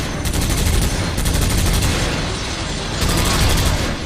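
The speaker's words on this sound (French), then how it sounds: "un petit tir de suppression pour qu'il soit cloué devant ma grenade et qu'il n'ose plus bouger" Sustained suppressive gunfire in a video game, rapid loud bursts of shots running almost continuously with heavy low-end thumps, dense and close throughout.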